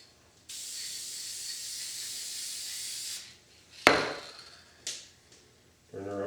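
Liquid from a spray bottle hisses onto a wire lasso in a long steady burst, followed by a few sharp clicks and short spray bursts. A voice begins briefly at the end.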